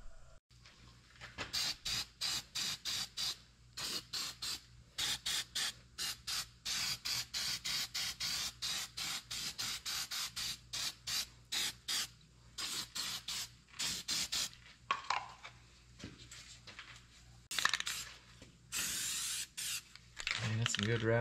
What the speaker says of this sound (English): Man, that's some good rattle can paint